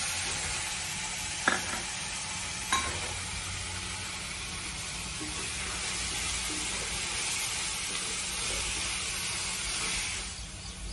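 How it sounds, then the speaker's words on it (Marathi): Onion frying in a pan with salt added, a soft continuous sizzle and hiss with a couple of light utensil taps, faint and close without talk. "कांदा लवकर नरम होण्यासाठी त्यात थोडं मीठ घालायचं."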